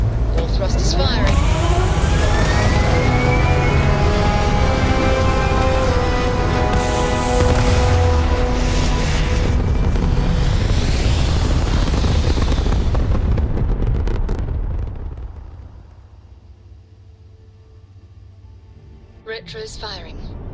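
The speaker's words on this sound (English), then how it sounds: "All thrusters firing." Spaceship thrusters firing in the video game Starfield, a loud sustained roaring rumble with a rising whine, holding steady then dropping off sharply to a quiet hum before a brief burst at the end.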